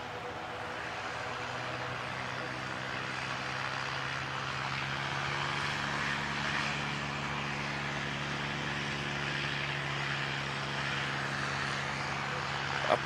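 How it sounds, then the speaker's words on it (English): ATR turboprop airliner taking off from runway 11 at an airport, a steady distant propeller and engine drone that swells gradually over several seconds and holds a low hum, heard from afar. "Got another ATR coming out."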